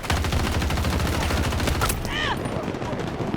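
Rapid automatic gunfire in the Battlefield 2042 video game, fired from above, a loud continuous burst of closely spaced shots that stops abruptly, leaving ricochet-like whines and faint background noise.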